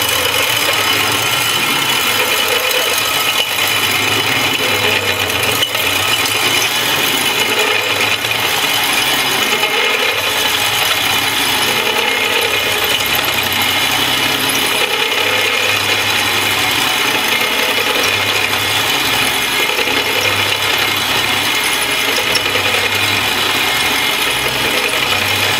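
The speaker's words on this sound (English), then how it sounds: "And now we're going to go ahead with the drill." A power drill with a TCT holesaw grinds continuously through 10-gauge stainless steel, a loud, steady whining and rasping that holds for nearly half a minute without pause.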